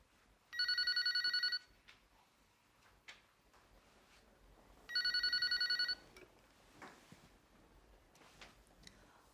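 A telephone rings on the caller's end of an outgoing call: two electronic ring bursts about three seconds apart, each a rapid warbling trill lasting over a second, clear against a quiet room with faint knocks.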